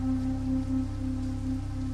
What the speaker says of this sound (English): The rain continued its patient rhythm.